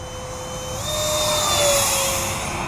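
A model airplane fitted for thrust-vectoring flies overhead with a high, whining motor tone that climbs in pitch and swells louder as it passes, then eases slightly, continuous over a breezy outdoor background.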